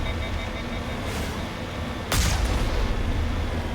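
Vehicle cannon fire in the Mass Effect Legendary Edition game sounds as one loud, booming shot about halfway through, with a low rumble carrying on under a steady game background.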